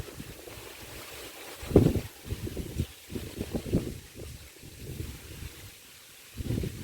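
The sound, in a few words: wind blowing outdoors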